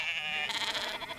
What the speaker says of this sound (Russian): Этот пастух гонит стадо мериносов, которые дают самую тонкую в мире шерсть.